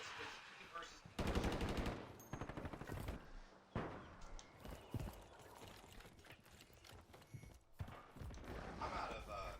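Rapid bursts of video game gunfire from a sniper rifle and other weapons crackle in quick volleys amid footsteps and game effects, with a player talking over much of the action.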